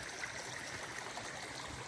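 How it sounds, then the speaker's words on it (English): A small creek on the Pacific Crest Trail, Hauser Creek, flows with a faint, gentle, steady trickle and murmur, quiet and distant-sounding, with no one talking. "Just a little stream, but the water was really good."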